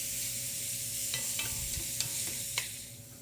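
Onions sizzling in a frying pan with a steady hiss, broken by several sharp scrapes and clicks of a utensil stirring them, close and continuous without speech.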